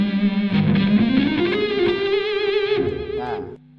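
Electric guitar solo tone with effects, a boosted, lightly distorted single-note line that bends upward and sustains with wavering vibrato, loud and up close before cutting off near the end.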